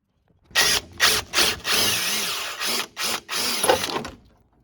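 A power tool, likely an impact wrench, loosens the bolts on a long-travel shock, firing about seven loud, close bursts of rattling hammering separated by short pauses.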